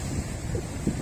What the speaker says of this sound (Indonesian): selain angin ini tikarnya juga kabur-kabur ini.